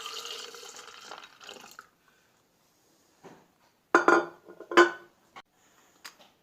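Milk pours into a jug holding almonds in short splashing bursts, with gaps of near silence and a few sharp clinks of the container in a quiet kitchen.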